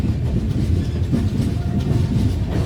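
A train runs on the Itarsi–Bhopal railway line, heard from on board as a loud, steady, continuous rumble with a low roar and faint rhythmic rattling throughout.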